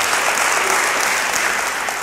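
A church congregation claps in dense, sustained applause during a sermon, a loud, even wash of hands with no talking over it.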